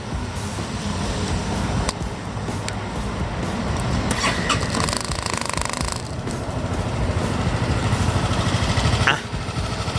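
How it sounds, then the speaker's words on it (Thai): A 2019 Honda Forza 300 scooter engine starts up and settles into a steady, fairly loud running hum, with a few clicks and mechanical rattles along the way. "เดี๋ยวผมลอง สตาร์ทเสียงเครื่องยนต์ให้ฟังกันนะครับ"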